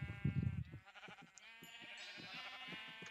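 Minecraft sheep bleat in a run of wavering, nasal baa calls, close and moderately loud, with a short low rumble at the start and no talking over them.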